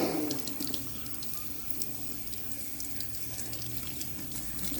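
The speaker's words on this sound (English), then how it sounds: "this is me rinsing the brush in the hot water" Hot tap water runs steadily into a sink while a makeup brush is rinsed under the stream, a close, continuous splashing hiss with no talk.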